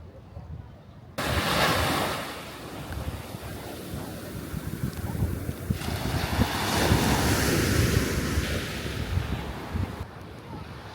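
Ocean surf at Nusa Dua beach in Bali: a steady broadband wash of breaking waves with blustery wind buffeting the microphone, surging louder midway and easing near the end.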